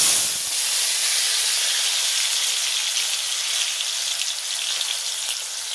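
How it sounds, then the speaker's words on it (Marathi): Chopped tomatoes dropped into hot oil in a home kitchen pan, giving a loud, steady sizzle and hiss that holds evenly for several seconds without talk. "आपण आधी तेल टाकले तापले, आता त्याच्यामध्ये आपण टमाटर कापलेले टाकू।"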